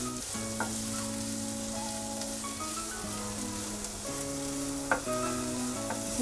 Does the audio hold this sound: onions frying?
yes